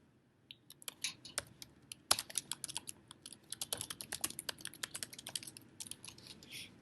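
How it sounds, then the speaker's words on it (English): Quick bursts of typing on a computer keyboard, close and crisp, with irregular clicks that speed up into a dense run midway and no voice over them. "you can simply go to google.com and type in"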